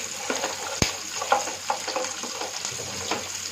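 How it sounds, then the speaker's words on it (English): Onions are stirred in a frying pan with a steady soft sizzle, broken by a few sharp clinks and scrapes of the utensil against the pan. "Keep stirring it for a little bit. We shouldn't brown the onions."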